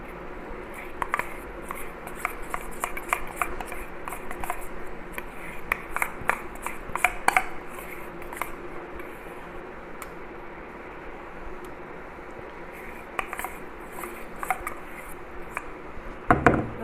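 Close, steady scraping and soft rubbing from a spoon stirring homemade borax-free slime with a little oil, with small clicks and irregular tapping against the bowl, and no talking.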